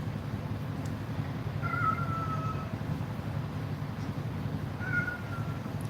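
A cat gives two soft meows, one early and one near the end, against a steady low indoor hum.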